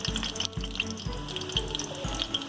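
Garlic sizzling in hot oil in a pan while cooking a potato, pea and moongre vegetable dish, a steady bubbling crackle with a soft rhythmic clinking of a utensil, close and continuous.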